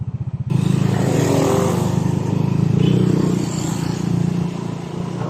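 Yamaha NMAX scooter on a test ride after an ABS conversion, its engine droning steadily and fairly loud close by, swelling slightly as it pulls along with wind rush.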